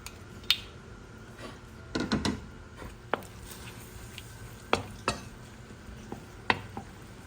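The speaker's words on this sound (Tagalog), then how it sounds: "yung bacon kanina nakita nyo, pinaprito ko na siya" Bacon frying in a pan while creamy carbonara is prepared, a soft sizzle under scattered sharp clicks and scrapes of a utensil against the pan, with no talking.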